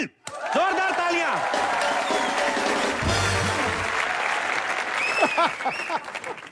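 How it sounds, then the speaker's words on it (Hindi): Loud, dense studio audience applause fills a comedy show stage, sustained and close, with a brief voice or musical sting near the end. "जोरदार तालियां।"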